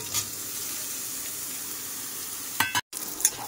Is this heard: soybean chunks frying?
yes